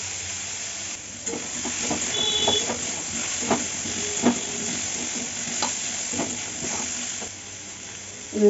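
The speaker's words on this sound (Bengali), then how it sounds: "ছোট্ট একটু নেড়ে চেড়ে ভেজে নিই।" Banana stem being stir-fried in a pan, with a continuous close sizzle and hiss broken by repeated scraping and clinking strokes of a spoon against the pan.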